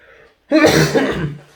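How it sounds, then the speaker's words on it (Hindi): A single harsh cough burst, close and fairly loud, trailing off over about a second. "ये मेरी खांसी ना नहीं जा रही"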